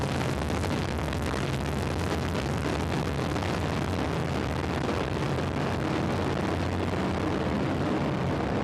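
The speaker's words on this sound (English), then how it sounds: "We have ignition and liftoff of a Delta II rocket and WISE" Delta II rocket lifting off with the WISE probe, a loud, continuous broadband roar that stays steady and dense throughout with no voices over it.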